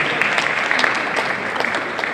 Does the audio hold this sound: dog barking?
no